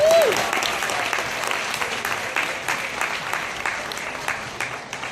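A crowd at a Gulf World dolphin and sea lion show breaks into sustained applause, opening with a short whistle tone, then a broad steady clatter of hands that slowly tapers.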